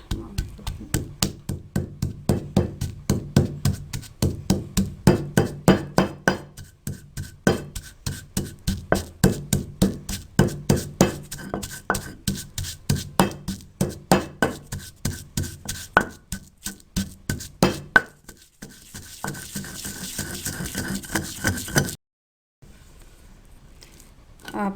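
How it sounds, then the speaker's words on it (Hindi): Garlic and pomegranate seeds are pounded to a paste for a traditional spicy green chutney, heard as steady rhythmic thuds of a pestle, close and loud, continuing for about twenty seconds before stopping. "अब इसमें लहसुन डाल के उसको पीसना है"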